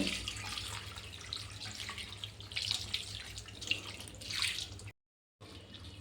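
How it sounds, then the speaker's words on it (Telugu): Cold water runs from a tap onto cooked greens in a steady splashing stream, briefly cut off and then resuming. "ఇప్పుడు వీటిపైన చల్లటి వాటర్ వేసుకోవాలండి"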